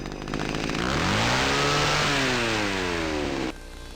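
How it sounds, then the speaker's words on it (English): A video game chainsaw engine revs up hard, rising in pitch and holding a loud buzzing whine for a few seconds before cutting off abruptly. "hears the sound of a chainsaw revving up"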